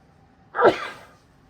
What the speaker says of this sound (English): Sorry for the sneeze there.